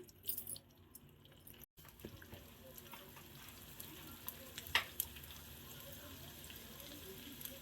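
Seeds sizzle and crackle in hot oil, a faint steady frying hiss with a few sharper pops, heard without talking.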